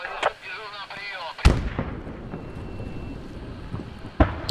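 Gunfire in the military shooter game Squad on a desert map: a sharp loud shot cracks out, followed by a long fading echo, with more distant shots near the start and end amid wind noise.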